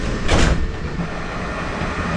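Automatic doors on a Walt Disney World monorail slide shut with a brief whoosh and thud near the start, followed by a steady cabin hum.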